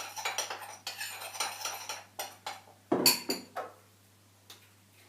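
A spoon stirs an essential oil bath soak mixture with eucalyptus in a container, giving a quick run of light rhythmic clinks and scrapes, then one louder knock and a few fading taps, close and with no talking.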